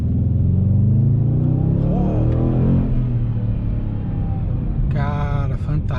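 A Chrysler 300C SRT8 V8 engine revs loudly and close, a deep rumbling burble that rises and falls, then settles into a throaty idle, with a brief higher mechanical whine near the end.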